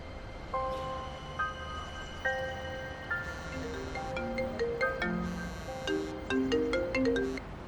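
A phone ringtone plays a repeated melodic chime pattern, clear and moderately loud, with no talking over it.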